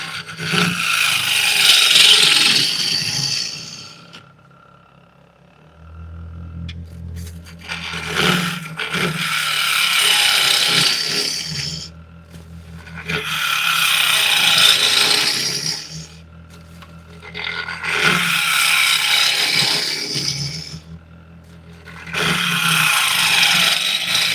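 A wood lathe turns a walnut and butternut blank while a tool scrapes and cuts it, producing loud, rasping bursts that swell and stop in repeated passes, with the motor's low hum between cuts.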